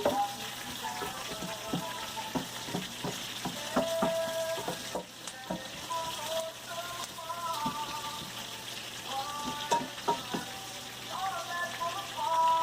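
Onions fry in a pan with a continuous soft sizzle while a spoon stirs them in intermittent scraping strokes; a voice speaks faintly underneath.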